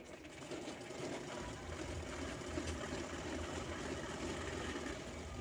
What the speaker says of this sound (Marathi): तर बेल्ट शिवून घ्यायचा आहे